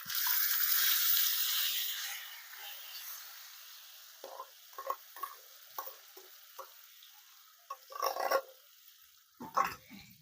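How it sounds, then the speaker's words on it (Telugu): Gongura leaves tipped into a hot tempering with curry leaves for Andhra-style onion gongura give a loud, steady sizzle that fades after a few seconds, followed by scattered scraping and stirring bursts in the pan. "ఇప్పుడు ఈ గోంగూర అంతా కూడా తాలింపులు వేసేసుకుందాం"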